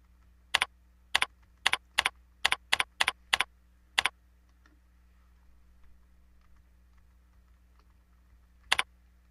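Nine crisp key presses on a computer keyboard as a password is typed, a quick irregular burst of eight clicks followed by a pause and one final keystroke, close and clear in a quiet room.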